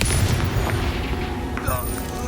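A Confringo blasting spell detonates in the video game Hogwarts Legacy, a heavy booming explosion with rumbling low end that rolls on and decays beneath a continuing game soundscape, loud and close.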